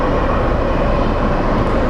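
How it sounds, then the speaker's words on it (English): A United Boeing 737-9 airliner arriving at Sky Harbor International Airport, a loud, steady broadband engine roar that holds unbroken throughout. "here comes a United 737-9 coming in from Denver"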